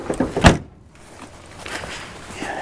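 Near, with no talk: a door is unlocked and opened. A sharp clunk of the latch is followed by a short quiet gap, then a softer scraping swing.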